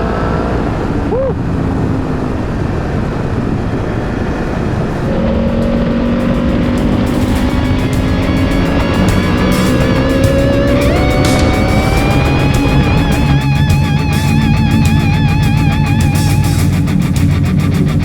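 A Yamaha FZ10 (MT-10), the 2017 model, being ridden: steady engine roar throughout with rising rev tones as it accelerates through gears, loud and close with heavy wind noise.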